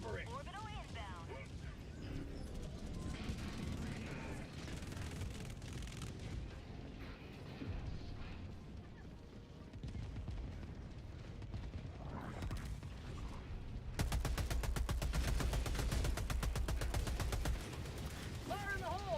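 Orbital strike explosions and gunfire in the video game Helldivers 2, with a dense burst of rapid, loud impacts in the latter part, mixed under game voices and radio chatter throughout.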